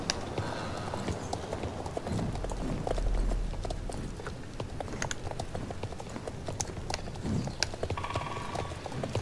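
Horse hooves clip-clopping in the video game Star Stable Online, a steady rapid trotting rhythm over a continuous game soundscape, with no speech.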